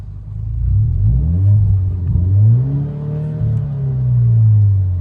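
An Alfa Romeo Giulia with a muffler delete revs up from a deep idle rumble, climbs and holds against its soft limiter, then eases back and rises again, loud and close with no talking.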